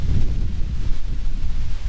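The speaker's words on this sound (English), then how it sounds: "Pretty windy today." Gusty wind buffets the microphone in low, rumbling bursts, rising and falling without pause, on a hiking trail at Mille Lacs Kathio State Park, Minnesota.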